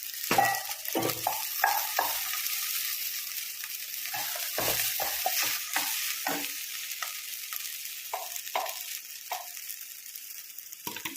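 A spoon stirs seasoned rice with a little sesame oil in a pan, giving a series of scraping, scooping strokes over a soft frying sizzle, close and moderately quiet.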